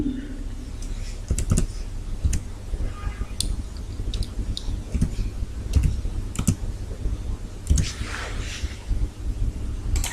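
Computer keyboard keys being tapped to enter a password, producing a steady run of close, crisp clicks and occasional sharper strokes over a low background hum, with no talking.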